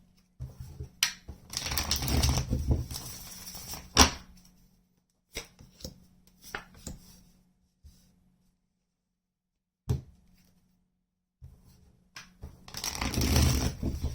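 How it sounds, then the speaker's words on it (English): A deck of tarot cards is shuffled by hand in several close, crisp bursts of riffling and flicking, separated by brief pauses and quieter taps, with no talking. "One more shuffle."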